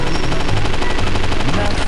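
Rapid automatic gunfire from the Interstellar Marines video game rattles in a dense, continuous burst of closely spaced shots, loud and immediate.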